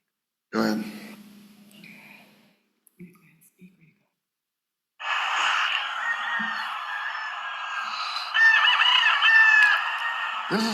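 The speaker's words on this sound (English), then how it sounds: "There's over 200 roosters in this compound." Roosters crowing just outside a bedroom door in a compound housing over 200 roosters, a loud sustained chorus after a brief quieter stretch with a few short sounds.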